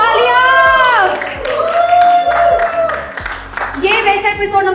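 Crowd applause and cheering break out at an open mic night featuring rap, singing, mimicry and storytelling. It sits under loud music with sung voices and swells with whoops toward the end.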